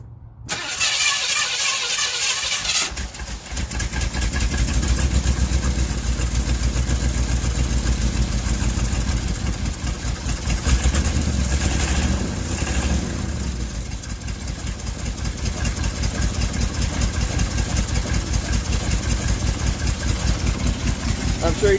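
After a short crank, a car engine catches following an ignition tune-up and settles into a loud, rough, slightly stuttering idle with uneven pulsing throughout, heard up close.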